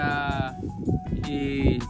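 Goats on a goat farm bleat in a few quick, wavering cries close by, while someone talks over them.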